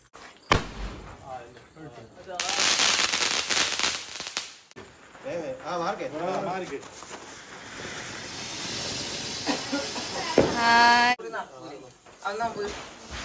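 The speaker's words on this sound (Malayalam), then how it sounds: "നമ്മൾ ഈ സ്കൈ ഷോട്ട് കത്തിക്കാൻ പോവാണ്." A sky shot firework being lit and launched during a Vishu celebration, with a long fizzing hiss and crackling bursts mixed with steady talk and excited voices nearby.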